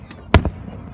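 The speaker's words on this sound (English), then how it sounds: "Wow, I love fireworks." Fireworks at a Canada Day show in Steveston, Richmond, 2016: one sharp booming burst followed by a smaller crack, heard from a distance in an otherwise quiet moment.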